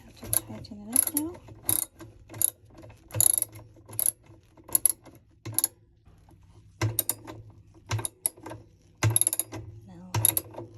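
Ratcheting clicks while tightening a part during repair of a Kenmore washing machine, in close, irregular bursts of rapid mechanical clicking separated by short pauses.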